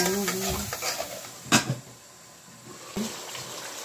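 Spice paste frying in a pot for a chicken and potato curry, a low sizzle with scraping stirs and a sharp metal clank, then a quieter stretch with another knock of the spoon.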